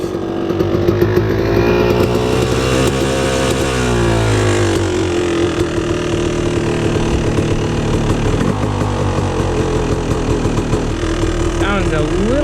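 A Yamaha YZ250 two-stroke dirt bike, jetting running rich with the choke on, drones steadily up close at a ragged, burbling idle with small rises and dips in revs throughout.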